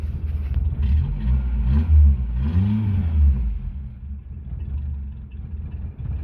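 A Renault Le Car engine idles roughly after a restart, with low rumbling revs swelling and settling, close and loud throughout with no speech.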